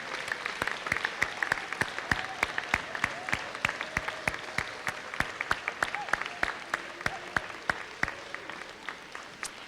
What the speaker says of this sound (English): let's give a round of applause for all of our newest members of the 2003 Hall of Fame